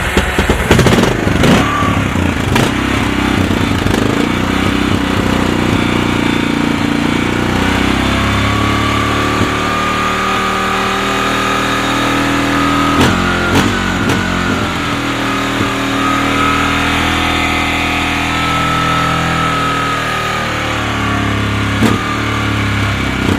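A Kawasaki Lakota ATV engine runs steadily after a jump start, a loud continuous motor drone with brief revs and clatter near the start and middle, close by with no talk.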